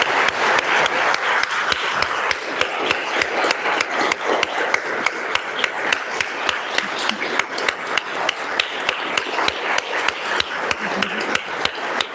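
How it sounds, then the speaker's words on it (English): Sustained applause fills a legislative House chamber, a dense, even patter of many hands clapping continuously at steady loudness for the whole stretch. "let's give them another round of applause"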